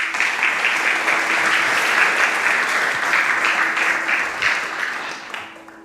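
Sustained audience applause at a meditation event at the Rubin Museum, steady and fairly loud from many hands for about five seconds, then fading out at the end.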